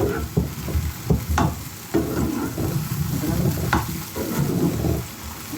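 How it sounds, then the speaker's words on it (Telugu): Chopped mushrooms frying in a pan, a continuous close sizzle with repeated spatula scrapes and stirring clatter, no voices present. "కోసి పెట్టుకున్న మష్రూమ్స్ వేపుతున్నాను"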